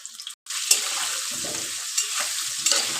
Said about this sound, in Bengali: সব কিছু সুন্দর করে লাল লাল করে ভেজে নিব